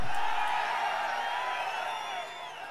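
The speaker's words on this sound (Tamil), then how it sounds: "இந்த மக்களுடைய ஆரவாரம் மகிழ்ச்சி" Sustained roar of a large crowd cheering and whooping at a political rally in Dharapuram, a steady broad wash of voices that slowly fades.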